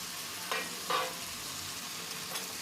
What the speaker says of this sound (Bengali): সজনে ডাঁটা দেওয়ার পর খানিক্ষণ নাড়াচাড়া করে নিতে হবে